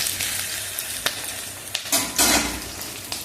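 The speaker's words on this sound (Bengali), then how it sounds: "তো ভালো করে একটু পটলটা ভেজে নিই।" Sliced pointed gourd (potol) frying in hot oil in a pan, a steady close sizzle with a few brief stirring scrapes and louder crackling bursts toward the end, no voices.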